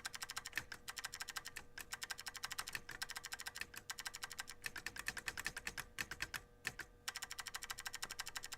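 Keys clatter on an Apple //c keyboard in a rapid, steady run of crisp clicks and taps, close and continuous with only a couple of brief pauses.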